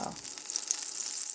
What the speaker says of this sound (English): This is just how we cook our pancakes.